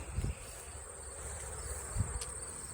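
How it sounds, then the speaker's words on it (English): Honey bees buzzing around a beehive during summer in Ontario, a continuous high insect drone filling the whole stretch with two brief low thumps, no talking. "I am in the path of these bees, and our girls are yelling at me, clearly"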